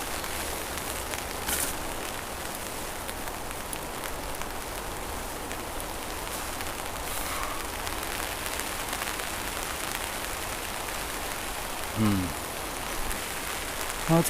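Steady rain falling on a bushcraft campsite with a tipi and campfire, a dense, even patter filling the scene, with a couple of brief louder knocks near the end.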